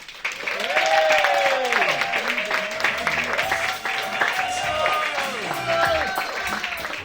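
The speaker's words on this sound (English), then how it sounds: "can we all give a big, massive round of applause and cheer for Mr. Des O'Connor" An audience applauds and cheers for Des O'Connor, loud sustained clapping with whoops, while a voice speaks over the crowd through the ovation.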